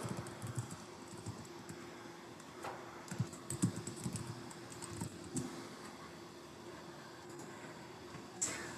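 Someone types a password on a computer keyboard: a quiet, close patter of key clicks in irregular bursts, with no talking.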